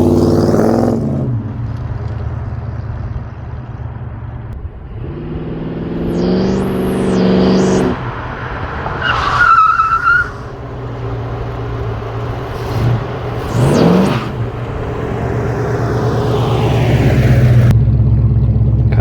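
A white car drives off after a fresh brake job, its engine rumbling steadily close by while the speed rises and falls, with a few higher whining passes and squeaks scattered through the run.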